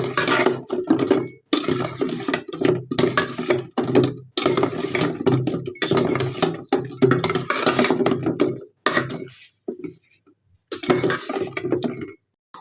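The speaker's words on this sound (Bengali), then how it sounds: "একটি খুন্তি দিয়ে ভালো করে নাড়াচাড়া করে মিশিয়ে নেব" Sweet fried singaras are stirred and turned with a spatula in sugar syrup in a pan, giving dense, continuous clattering and scraping bursts with a few short pauses and no talking.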